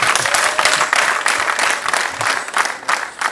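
A crowd applauds at a twins' wedding celebration in Kigali, with dense, steady clapping that continues loudly throughout and faint voices mixed underneath.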